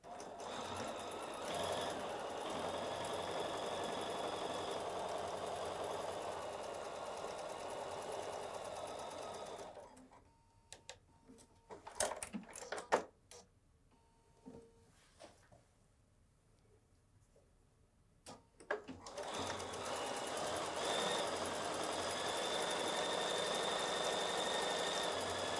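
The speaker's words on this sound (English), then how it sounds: "I'm gonna go to the sewing machine and stitch this down" A sewing machine stitches down quilted fabric for a quilt-as-you-go project bag, running in a long steady whir, stopping for several seconds with small clicks and handling noises, then resuming at the same even pace.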